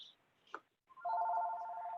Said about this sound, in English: have to wait till my phone stops ringing here